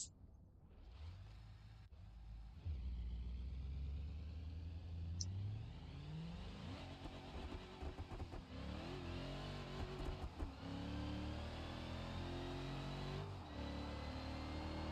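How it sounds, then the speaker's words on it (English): Engine revving with tires spinning in BeamNG, the wrecked car torn nearly in half, rising pitch sweeping up steadily and held loud and continuous throughout. "At least she stops wheel spinning after a while."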